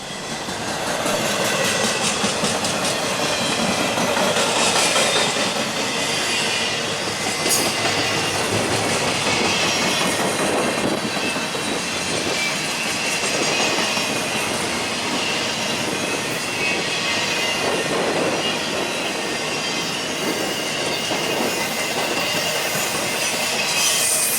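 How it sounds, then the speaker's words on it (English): A freight train rolls slowly along the tracks with a loud, continuous rumble, steady wheel clatter and occasional squeals throughout, close by and without voices. "the trains through here are moving relatively slower than usual"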